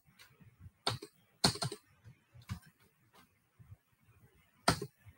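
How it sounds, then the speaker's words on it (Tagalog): Typing on a computer keyboard: scattered, uneven key taps with several sharper, heavier strikes, close and fairly quiet, with no talking. "Yung aking keyboard ba?"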